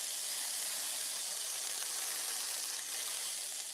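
Food browning in a skillet, a steady bright sizzle and hiss held at an even level throughout, close and continuous with no voices.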